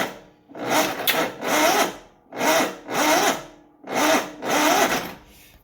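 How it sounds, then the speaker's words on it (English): A Grazer G2297K mower engine cranks slowly, sounding as three pairs of loud, laboured churning strokes with short silent gaps between each pair, close by. "Why won't it crank faster?"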